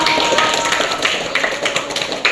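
Audience clapping for a student named Gibran during a Scratch programming lesson, a steady dense patter of many hands at close range with no talking.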